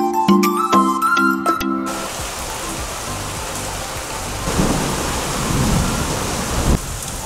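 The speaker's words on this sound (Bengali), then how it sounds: "বেশ মুষলধারে বৃষ্টি হচ্ছে এখন।" A heavy tropical downpour roars as a steady, dense hiss, with a low rumble of thunder rolling through the middle. A brief burst of tonal sound sits at the start before the rain takes over.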